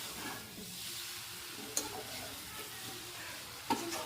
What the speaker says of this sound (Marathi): कढई भरली पूर्ण लोळे माशानी. हे बघा आता मिक्स करून घेते.